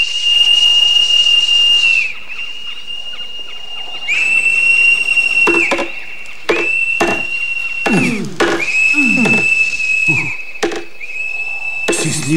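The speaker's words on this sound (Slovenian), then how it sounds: "si slišal ta žvižg?" Shrill, sustained whistle in a Slovenian cartoon, blown in several long tones with brief breaks, joined partway through by short bursts and swooping cartoon effects.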